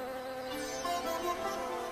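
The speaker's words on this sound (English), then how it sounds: "Look at that bee there." A honeybee buzzes near a nectar-rich flower, a continuous faint droning hum lasting under two seconds, with no voices.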